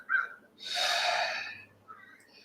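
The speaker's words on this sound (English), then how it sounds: "breathing into completion, allowing the release, inhaling again" Deep, audible breathing during a Reiki breath practice: a short sharp intake, then one long drawn breath lasting about a second, followed by a lighter breath near the end, close and clear against silence.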